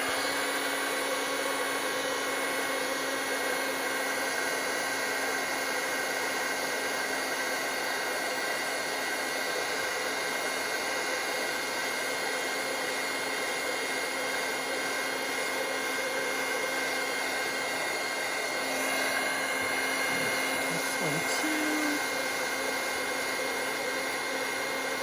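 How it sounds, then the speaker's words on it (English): A craft heat tool blows steadily to set shimmer white ink on a stamped card, giving a constant loud whirring hiss that continues unbroken throughout with no talking. "we'll just do a quick set with the heat tool"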